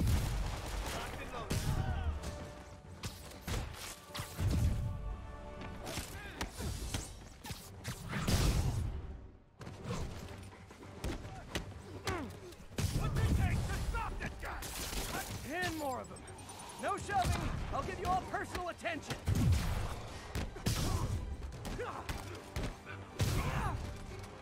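Rapid bursts of automatic gunfire in a Spider-Man video game crackle repeatedly over a busy, layered mix of explosions and action sounds, loud and dense throughout.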